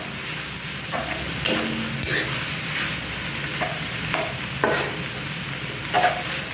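Minced pork with vegetables and glass noodles stir-fried in a pan: a continuous sizzle with repeated scraping and clattering strokes of a spatula at an uneven pace, close and fairly loud, with no voices.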